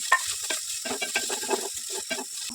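Cinnamon, cloves and poppy seeds dry-roasting in a pan, with a steady crackling sizzle and repeated scraping stirs close by, no voices.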